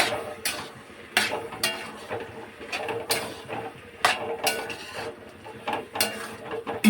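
Mushrooms being tipped into a cooking pot and stirred for a mushroom biryani, producing repeated sharp metallic clinks and scrapes of a utensil against the pot at an irregular rhythm, with a low background hum.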